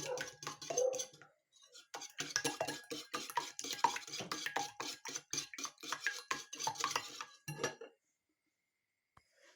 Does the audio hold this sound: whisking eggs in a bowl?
yes